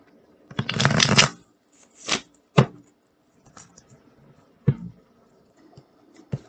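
Tarot cards being shuffled by hand, a loud riffling burst followed by several shorter flicks and taps, close up and spaced out by quiet pauses.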